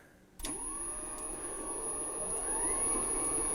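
A Hobart HL6 stand mixer, a rare N50 model, switches on and runs steadily while beating butter for peanut butter cookies, a close whirring motor drone with a faint high whine, climbing slightly in pitch toward the end.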